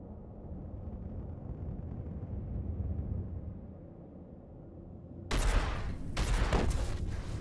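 Low muffled rumbling in a spaceship's cargo hold in the game Starfarer, then a sudden loud burst of gunfire-like cracks and blasts near the end, sharp and close.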